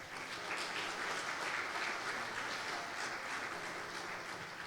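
A church congregation claps steadily throughout, a dense, even wash of applause at moderate distance with no voices on top.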